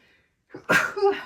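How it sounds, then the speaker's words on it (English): A single sharp sneeze: a short intake of breath, then a loud burst that fades after about half a second, with nothing else audible. "I don't know how to edit well enough to take that sneeze out"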